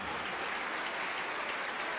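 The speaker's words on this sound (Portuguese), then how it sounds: "Vamos aplaudir mais ao nome de Jesus" A church congregation clapping, a dense, even patter of many hands that holds steady throughout, with no voices over it.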